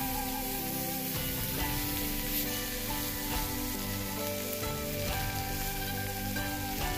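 Chopped tomatoes frying in a pan for a fish curry, a steady, dense sizzle like light rain that holds evenly close up from start to finish with faint stirring underneath.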